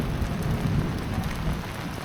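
Steady rain drums on a camper van's metal roof overhead at night, a dense, continuous patter with no voices, close and enveloping.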